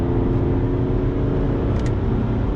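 A BMW E90 335d diesel saloon driving hard with traction control off, its engine a steady, loud drone with a dense low rumble throughout, continuous and close with no speech.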